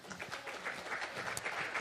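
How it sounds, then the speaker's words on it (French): An audience at a talk applauds a speaker walking down the stairs, a short burst of diffuse clapping, fairly faint and roomy. "vous pouvez l'applaudir pour l'encourager pendant qu'elle descend les escaliers"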